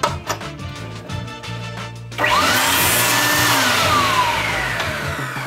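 A golf driver shaft being tipped by one inch: after a few light ticks, a loud power cutting tool whirs into a steady high-pitched grinding drone with a rising then falling tone, close and continuous.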